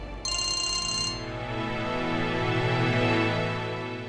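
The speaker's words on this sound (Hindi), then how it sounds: "जीविका का फोन।" A phone rings loudly and close, a sustained electronic ringtone that starts with a bright trilling layer before settling into a steady melodic tone that continues to the end.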